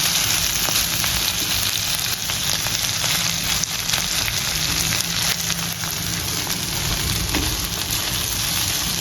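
Chicken liver frying in a pan for a pepper fry, a steady dense sizzle crackling close and loud throughout with no voices.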